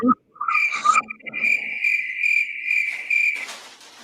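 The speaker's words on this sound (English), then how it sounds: "I don't think I have a crickets one" Crickets chirp in a steady, sustained trill with a few brief breaks, clear and fairly close, with no talk over it.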